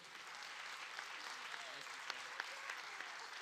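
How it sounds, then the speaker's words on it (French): Faint, steady applause from an audience at a voice-dubbing workshop, with scattered sharper claps and murmuring voices. "Applaudissez-les, s'il vous plaît."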